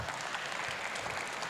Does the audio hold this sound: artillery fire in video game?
no